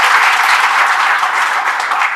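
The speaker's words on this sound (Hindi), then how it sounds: "उस जोश और जज्बे के लिए एक बार जोरदार ताली बताइए अपने लिए" A packed room of students at an NDA coaching batch session breaks into loud, steady applause that fills the whole stretch without letup or voices.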